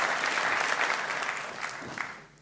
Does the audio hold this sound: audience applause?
yes